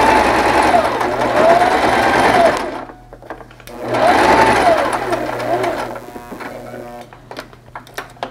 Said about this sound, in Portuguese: E agora eu vou costurar até aqui,